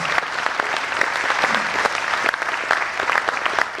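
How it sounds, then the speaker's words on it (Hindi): Vigorous audience applause welcoming a young Hindustani classical vocalist of the Kirana gharana before a Raag Yaman concert, dense clapping with sharp individual claps standing out, steady for the whole stretch. "आप भरपूर तालियों से अभिनंदन करें"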